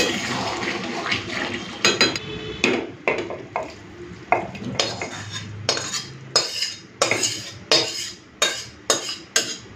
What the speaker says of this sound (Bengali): এরপরে আমি এই ডিম আলু কষাটাকে খিচুড়ির মধ্যে ঢেলে দেবো